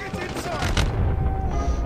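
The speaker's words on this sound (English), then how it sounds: "who's shooting? Who's shooting?" Rapid bursts of automatic gunfire in a Call of Duty team deathmatch, with dense crackling shots and a distant boom, heard close and loud with a player's voice over the top.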